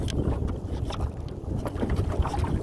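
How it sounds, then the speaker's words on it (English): Steady gusty wind buffets an outdoor microphone on a blustery day, a continuous low rumbling roar with rustling surges and no voices. "It's quite windy today."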